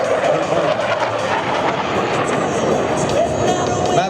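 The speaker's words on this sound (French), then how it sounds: "C'est un gros avion, mais d'un pilotage extra." A large carrier-based naval jet flies past at an airshow with landing gear, flaps and tailhook down, its engine roar broad and steady, with a faint crowd murmur in the background.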